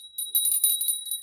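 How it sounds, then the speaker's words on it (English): A small bell rings with a sustained, bright tone and shimmering, tinkling repeats close to the microphone, with no talking over it. "I'm going to ring the bell"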